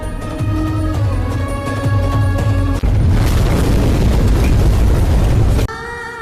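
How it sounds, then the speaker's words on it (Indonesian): A plane crashes and explodes in a film scene: a loud, deep boom and roaring rumble swell over a sustained tonal drone, holding heavy and dense for several seconds before ending abruptly. "Sayangnya pesawatnya oleng sampai terjatuh dan meledak."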